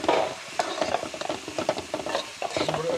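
A spoon stirs old-style mutton curry in a frying pan, making repeated scraping strokes over a soft, steady sizzle, close and clear with no talking.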